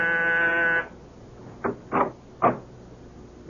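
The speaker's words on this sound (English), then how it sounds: "my door buzzer sounded" A door buzzer sounds once, a steady harmonic buzz lasting just under a second, followed by three soft knock-like thuds of a door in a quiet room.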